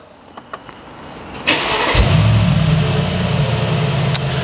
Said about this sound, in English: should we start her up?